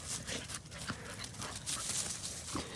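Two dogs playing and running together, with faint scuffling paws, panting and small whimpers at a distance, quiet and irregular throughout.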